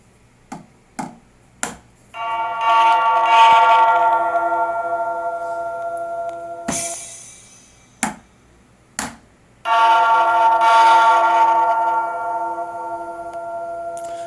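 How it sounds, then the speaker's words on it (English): Pad strikes on an Alesis Strike Pro SE electronic drum kit: several sharp taps, then two ringing metallic bell tones that each sustain for a few seconds and decay, with further dry clicks between them. "So I'm going to go ahead and hit the bell."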